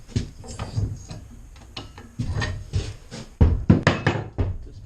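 A ratchet loosening a bolt during bushing removal on a 1979–95 full-size Chevy GMC van, giving quick bursts of close, sharp clicking with short pauses between strokes, no talk.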